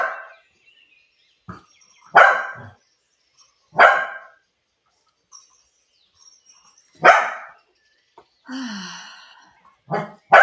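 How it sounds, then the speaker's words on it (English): Dogs fighting over a toy bark and snarl in sharp separate bursts, about half a dozen loud, close outbursts with quiet gaps and a short growling whine between them. "I'm trying to get the dogs under control. They're fighting over a toy, of all things."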